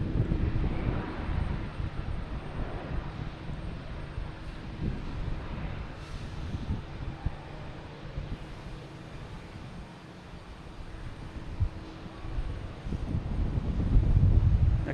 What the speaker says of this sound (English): American Airlines coming in from Dallas-Fort Worth